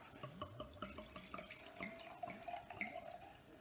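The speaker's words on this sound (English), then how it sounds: "All you do is pour your glass." A drink is poured into a glass, giving a trickling, splashing liquid stream with small gurgles and a faint rising tone as the glass fills, close and soft.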